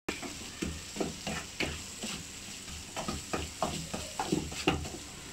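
A spoon stirs chicken masala through fish in a hot pan for Kerala fish pollichathu, giving repeated scraping, clattering strokes over a steady sizzle, fairly close and with no talking.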